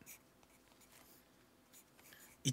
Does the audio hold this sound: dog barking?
no